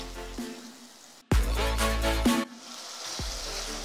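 Meat frying in sunflower oil in a pan, for spaghetti with meat and vegetables: loud steady hiss and crackle bursts in after a quiet start, fades briefly, then returns at a lower level.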